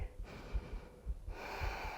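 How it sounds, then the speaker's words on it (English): Slow, deep breaths during a vinyasa yoga flow, heard close and soft as a few steady inhales and exhales with airy hiss between, no talking. "Coming back to our deep breathing."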